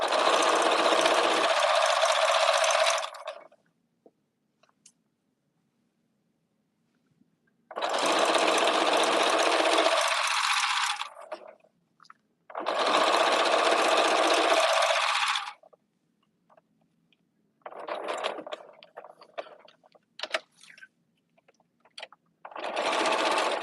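A sewing machine stitching a blanket, loud close mechanical whirring in three long runs of a few seconds each, then a choppier stop-and-start burst, with silent pauses between.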